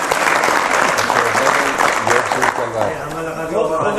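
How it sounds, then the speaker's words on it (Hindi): An audience at a Hindi devotional speech bursts into loud, dense applause that fills the space, then thins and fades slightly toward the end, with a voice over the clapping. "तालियां नहीं बजाएंगे?"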